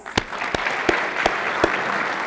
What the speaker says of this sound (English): I'll have you stand for a round of applause.